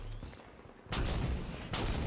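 Two heavy gunshot bursts from a sniper rifle in Halo 5, a shooter video game, the first near 0.9 seconds and the second around 1.7 seconds. Both are loud and broadband and ring on over a constant murmur of game sound.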